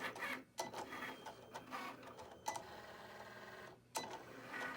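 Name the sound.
Cricut cutting machine running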